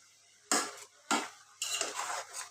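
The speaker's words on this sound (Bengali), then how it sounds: "আর মাছটাকে ভালো করে নেড়ে দিচ্ছি।" Fish in a spiced curry is stirred in a pan, giving three distinct metallic scrapes and clinks of a utensil against the pan, close and fairly loud, with the last one longer and rougher.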